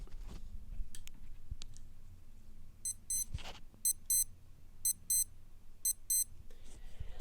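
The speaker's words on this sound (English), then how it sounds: "And that is how the alarm sounds on this watch." A Casio AE-1500WH digital watch alarm beeps in quick high-pitched paired chirps that repeat in a regular pattern, preceded by faint button clicks and handling noise, held close to the microphone in a quiet room.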